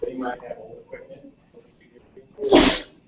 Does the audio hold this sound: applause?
no